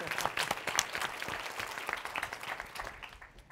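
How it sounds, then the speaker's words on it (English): Audience at a Chang School panel event applauding its hosts and organizers: a fairly quiet, dense patter of clapping from a crowd that gradually thins out toward the end, with no voices over it. "I think they all deserve applause."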